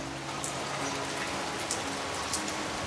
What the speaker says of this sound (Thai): มาเบิ่งฝนตกก่อนเนาะ